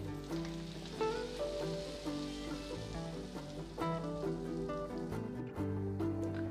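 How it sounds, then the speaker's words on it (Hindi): Loud, steady sizzling and crackling of hot oil tempering poured onto cooked dal, a continuous frying hiss with no one speaking. "अब हम ये तड़का इस पे डाल देते हैं।"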